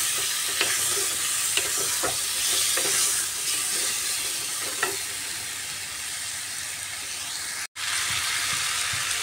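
Ingredients are stirred with turmeric in a hot pan, producing a soft continuous sizzle with occasional scraping strokes, fairly quiet and close, with a brief dropout near the end.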